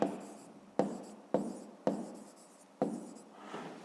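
Chalk or marker strokes on a board during a math lesson on cube surface area: about half a dozen short, scratchy strokes land in an uneven rhythm, close and clear with quiet gaps between.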